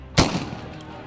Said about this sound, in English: These are Indian forces using pellet shotguns against pro-independence protesters in the Indian-controlled part of Kashmir.